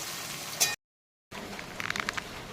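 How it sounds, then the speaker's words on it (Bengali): Rain patters with a soft steady hiss, cut by a brief silence, then resumes with scattered louder drops close by. "কোকো কুহু, হ্যাঁ, নিচে বসে থাকতে ভালো লাগে বৃষ্টিতে?"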